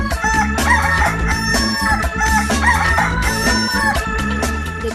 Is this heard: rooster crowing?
yes